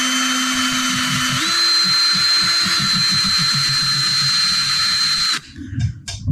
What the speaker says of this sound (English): I'm scratching all over around this, but nothing yet